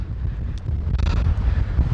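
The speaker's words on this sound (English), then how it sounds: "So windy." Strong gusting wind buffets the microphone on a mountain overlook, a loud low rumble with rushing bursts over two seconds, no voices.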